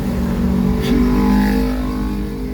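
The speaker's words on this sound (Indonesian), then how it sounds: "Banyak mobil yang lewat." Cars driving past on Jalan Ahmad Yani in Pontianak, a steady close engine rumble with one vehicle swelling louder midway as it passes, traffic continuing throughout.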